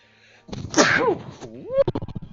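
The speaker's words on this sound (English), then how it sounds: "I was attacked by that freaking sneeze, dude" A man sneezes once, loud and close, a sharp burst followed by a short vocal groan and a few trailing breaths, with no other sound behind it.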